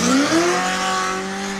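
Supercharged drift car at a French drift championship round at Val de Vienne, its engine revving high with a rising whine and tire squeal, loud and close for a brief pass.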